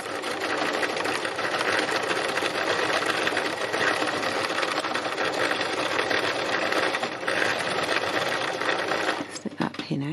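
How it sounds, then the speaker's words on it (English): Sewing machine running steadily, stitching brown thread across a textile landscape, a loud continuous whir that holds for about nine seconds before slowing and stopping near the end. "So I'm just going to do a little bit of stitching and see what happens."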